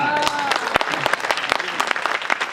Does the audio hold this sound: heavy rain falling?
no